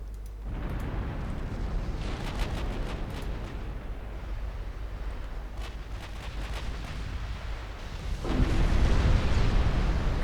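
Battleship main guns fire in the naval strategy game Ultimate Admiral Dreadnoughts, a sustained deep rumble of salvos with a heavier boom near the end, loud and continuous with no talk.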